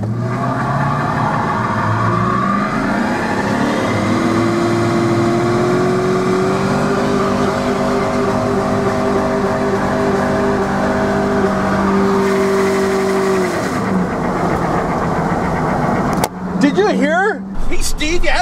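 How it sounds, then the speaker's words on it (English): A car engine holds on the rev limiter with a sustained stuttering drone, the pitch climbing, plateauing and then dropping, followed by a burst of sharp two-step pops near the end; loud and close. "Hey Steve, you had that thing right on the rev limiter"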